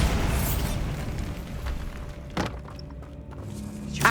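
Bombarda explosion spell cast in Hogwarts Legacy inside a tomb: a sharp blast around the middle, with a second burst at the end, over a low rumbling game ambience.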